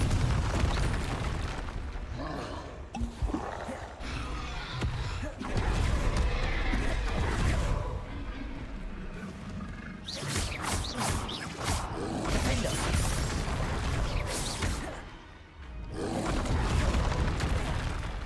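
Repeated booming fire-spell explosions from Confringo casts in Hogwarts Legacy, with crashing blasts, rumbling and mechanical creaks in a loud, dense battle mix.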